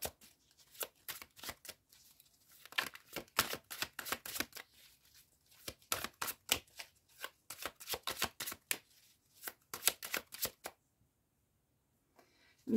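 Tarot cards being shuffled by hand, quick bursts of riffling and slapping in uneven rhythm, close and moderately quiet, stopping near the end.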